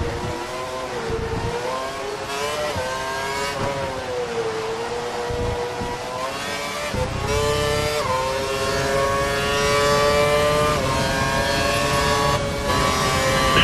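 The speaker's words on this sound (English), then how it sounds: "He's running full revs, maximum power." Simulated F1 2012 race car engine screaming at full revs in a night-race video game, a loud, continuous high-pitched whine with rising and shifting pitch and no talk over it.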